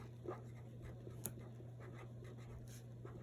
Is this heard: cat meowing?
no